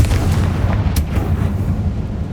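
A Confringo blasting spell goes off in Hogwarts Legacy, a loud, deep booming explosion with a sharp crack near the start and a rumbling tail, heard alone without speech.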